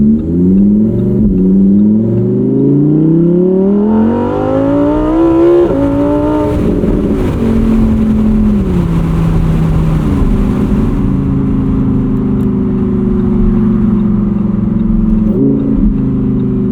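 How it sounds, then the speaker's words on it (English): A 2021 Lamborghini Huracán EVO Spyder's V10 engine revs loud and close, rising in pitch through the gears with a warbling tone, then settling into a sustained, steady drone. "The warble from this V10 just never gets old."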